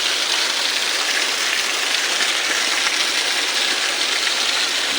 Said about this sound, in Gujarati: ફૂક્કા કાઢ નાખે એવો વરસાદ આવે છે ભાઈ